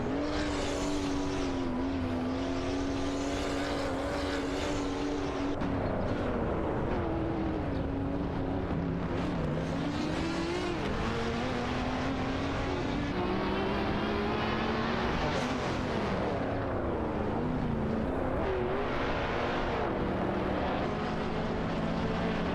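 A Ferrari 365 GTB/4 Daytona and a Shelby Cobra 427 racing in a video game, with loud, continuous engine drones whose pitch rises and falls through gear changes and corners, and no speech.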